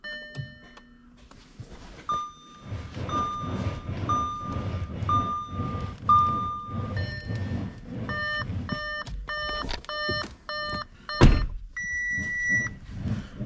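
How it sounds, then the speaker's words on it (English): A damaged car's steering groans and rubs each time the wheel is turned, a repeated low grinding creak close by, with electronic warning chimes beeping steadily over it and a sharp knock near the end. "So it's got this noise when you're turning the steering wheel."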